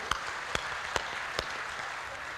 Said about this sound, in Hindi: एक बार जोरदार तालियां आदरणीय गुरुवार के लिए बजा दियो।